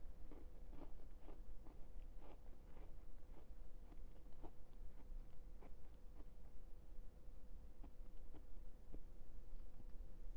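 Chewing sounds of food being eaten, with rhythmic soft crunches and bites repeating close to the microphone over a steady background hum, no talking.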